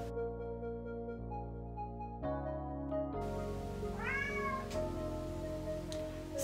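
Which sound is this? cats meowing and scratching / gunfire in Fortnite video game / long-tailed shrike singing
cats meowing and scratching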